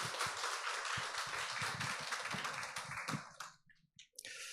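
Clapping welcome for a guest lecturer at a school parents' education session, scattered claps from a modest audience that thin out and stop near the end, leaving a few faint sounds.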